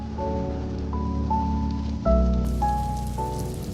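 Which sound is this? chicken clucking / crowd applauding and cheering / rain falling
rain falling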